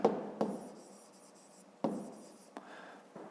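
Handwriting during a fifth-grade math exercise sounds as close, scratchy pen or pencil strokes in short bursts, each starting with a soft tap, separated by brief pauses.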